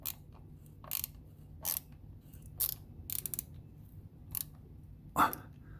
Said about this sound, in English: we are going to tighten this screw first